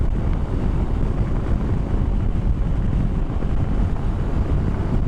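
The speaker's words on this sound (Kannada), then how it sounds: "ಸೊ ಎಲ್ಲಾದರೂ ವಿಂಡ್ ಬ್ಲಾಸ್ಟ್ ತುಂಬ ಕೇಳಿಸ್ತಾ ಇದೆಯಾ ಅಥವಾ ಮ್ಯಾನೇಜಬಲ್" Heavy wind buffeting roars continuously and loudly, a low rumbling blast with no breaks, heard while riding a motorcycle fast on a highway behind a windshield.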